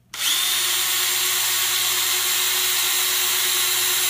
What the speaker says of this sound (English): you have to go around and use a bigger drill bit to widen the holes for the screws to go in